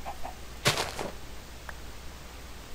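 A chicken in the Minecraft modpack Crazy Craft gives one short, clucking squawk at close range, alone against a quiet background.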